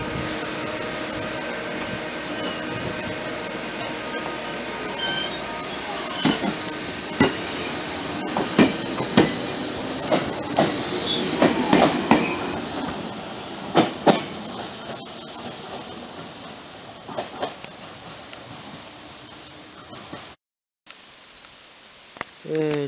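A local electric train pulls away from Chiyo Station on the Iida Line in rural Japan, with rumbling wheels, rising clickety-clack and a few sharp clanks fading into the distance, recorded outdoors on the platform.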